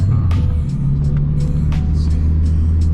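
A Ford Focus ST's exhaust drones low and steady nearby while driving, a deep rumbling hum with faint higher noise above it, and no talking.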